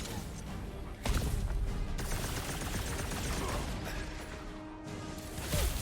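Dense, continuous gunfire rattles through a fight against a huge robot boss in Marvel's Guardians of the Galaxy, loud bursts layered with mechanical clanks and crashes, swelling sharply near the start and again at the end.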